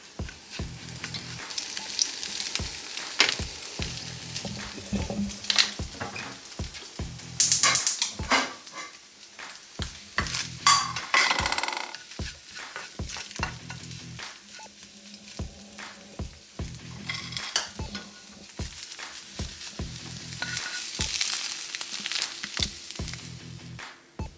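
Fresh eggs sizzle and crackle in a pan, a soft continuous frying hiss broken by scraping and clacking of a utensil stirring, with faint barking of a dog in the background.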